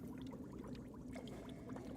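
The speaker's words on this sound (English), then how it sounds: "half a cup of water. Kind of warm, lukewarm. Just pour it in." Lukewarm water, about half a cup, is poured into a borax slime mixture, a steady close liquid pour and trickle with no talking.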